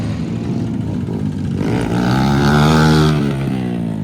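Stock 70cc mini quad engine straining up a hill outdoors, a loud close buzzing drone whose pitch rises and swells over about two seconds, then eases off.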